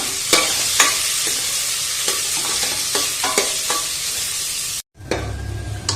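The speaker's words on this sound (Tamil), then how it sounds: "இந்த அளவு நமக்கு ப்ரௌன் கலர் ஆற வரைக்கும் ஆனியன் வந்து ஃப்ரை பண்ணி எடுத்துக்கோங்க" Sliced onions fry in ghee in a pan for ghee rice, giving a loud, close, crackling sizzle punctuated by regular spatula knocks and scrapes, with a brief cut near the end.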